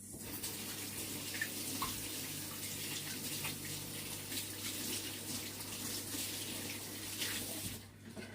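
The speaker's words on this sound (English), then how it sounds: "Let me wash my hands." Tap water runs steadily into a sink during handwashing in a home kitchen while making a baked cheesecake, a constant close hiss and splash that cuts off near the end.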